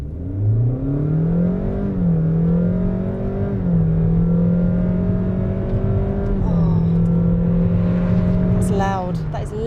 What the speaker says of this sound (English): sometimes the revs just flare up and everything gets incredibly noisy